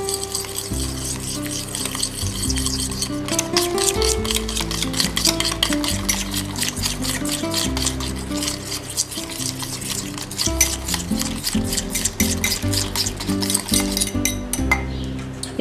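Soya biryani masala and salt stirred together in a pot, with continuous scraping and clinking of a spoon against metal over a soft sizzle, no talking.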